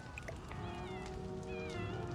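Cats meow in The Sims 4, several short rising and falling meows at moderate distance over soft game ambience.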